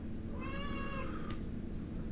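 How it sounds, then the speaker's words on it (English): A cat gives a single clear, drawn-out meow over a low background hum, close and moderately loud. "Meow."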